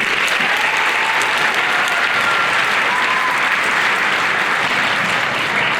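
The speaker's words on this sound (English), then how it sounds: "Round of applause for them, please" An auditorium audience applauds middle school band students before a Jefferson Middle School band concert, producing loud, thick, continuous clapping that holds at an even level from start to finish.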